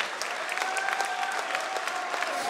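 Steady applause from an audience at a KSPROFL 6 kickboxing fight event in honour of fighter Sigurds, a dense continuous patter of clapping at moderate distance with no voices over it.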